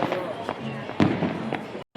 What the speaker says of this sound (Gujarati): અત્યારે ફૂલ ફટાકડા ફૂટે છે અમદાવાદમાં